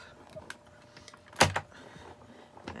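A die cutting machine creaks once in a loud, brief burst while cutting card, close by, with faint handling noises before and after.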